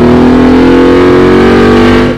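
A Ford Mustang Boss 302 V8 accelerates hard out of a corner at Laguna Seca, its loud, steady engine roar holding close and strong for about two seconds before easing slightly at the end.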